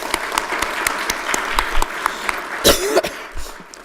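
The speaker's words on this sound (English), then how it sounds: "and they need a round of applause." Scattered clapping from an audience at a county government address, uneven and fairly sparse, with a few louder bursts and a cough or throat clearing standing out near the end.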